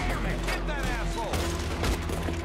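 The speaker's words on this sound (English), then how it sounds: "he just shot his hat off" A quick volley of gunshots and booms rings out in Red Dead Redemption 2 gameplay, several rapid cracks over background game sound, with players talking.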